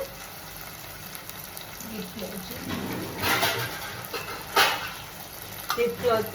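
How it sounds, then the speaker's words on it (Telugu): Green chillies and tomatoes fry in a pan with a steady sizzle, broken by louder scraping bursts as they are stirred. "ఈ పచ్చిమిరకాయలు కూడా ఇలాగే కుక్ అవ్వాలండి."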